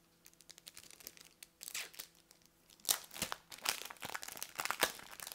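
A crinkly plastic package of scrapbooking supplies is opened nearby, with soft rustles at first, then louder bursts of crackling and crumpling in an uneven rhythm.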